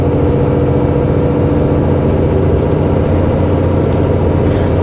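Renault van engine labouring up a hill in a steady, continuous low drone heard from inside the cab, loud and unbroken with no talk.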